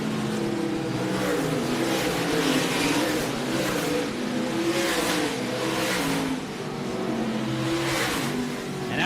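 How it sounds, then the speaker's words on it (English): SMART Modified race cars circling Carteret County Speedway, loud engines roaring and revving in repeated swells as cars sweep past, with a commentator talking beneath the continuous motor noise. "Now Jeremy Gerstner using the top side of the racetrack to get around Savali."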